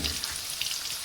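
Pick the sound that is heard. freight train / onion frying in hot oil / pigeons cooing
onion frying in hot oil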